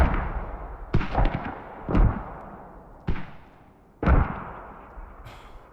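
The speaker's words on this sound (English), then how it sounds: "We got mortars trying to counter mortar." Mortar rounds in a competitive video game match thump out one after another, five booming reports about a second apart, each followed by a rumbling decay.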